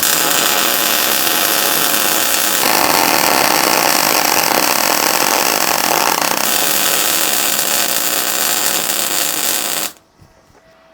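MIG welding of 4mm steel plate with an R-Tech MIG 181 welder, a loud, steady crackling buzz running continuously for about ten seconds, then cutting off abruptly into near silence.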